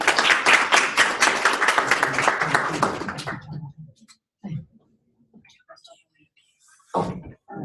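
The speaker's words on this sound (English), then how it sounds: "give him another round of applause" Workshop audience giving the main speaker another round of applause, a burst of lively clapping for about three seconds that cuts off into near silence, followed by faint movement and a short voice.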